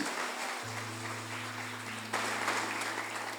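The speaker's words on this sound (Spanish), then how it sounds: "¿Cuántos pueden darle un aplauso al Señor?" A church congregation applauding for the Lord during a Spanish-language sermon, a soft diffuse clapping heard fairly distant and quiet beneath a steady low electrical hum, swelling slightly toward the end.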